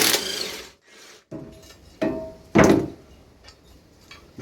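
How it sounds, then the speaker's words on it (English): Socket wrench with a 5/8 socket working loose a lawn mower blade: a few ratcheting clicks and metallic clunks in short bursts separated by brief pauses, close up with no talk. "Now we'll get this blade off of here. This one is a 5/8 socket."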